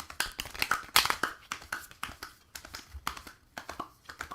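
Unicorn oracle cards being shuffled by hand make soft, quick papery rustles and light taps in an irregular rhythm, close by and fairly quiet.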